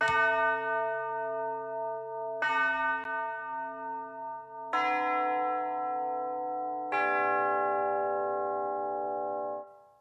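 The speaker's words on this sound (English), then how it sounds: "You have tubular bells." Tubular bells from the Iconica Sketch orchestral library in the Cubasis music app, four separate bright metallic strikes a couple of seconds apart, each ringing out with a long sustain, the last one fading away, with no voices.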